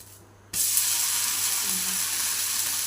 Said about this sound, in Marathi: आता उलटून घ्यायचं आहे आपल्याला घावन